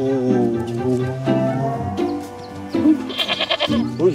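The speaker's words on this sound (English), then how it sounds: "Goat." A goat bleats with several wavering, harmonic cries in close succession, loud and near, ending in a quick stuttering run of bleats, with no talk over it.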